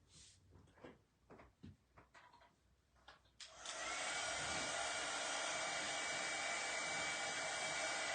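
Hair dryer blowing on freshly painted, still tacky paint, switching on after a few quiet seconds of light handling noises and then roaring steadily and loudly up close.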